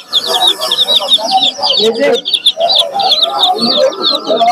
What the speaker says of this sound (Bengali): খুবই সুন্দর বেলজিয়ামের বাচ্চা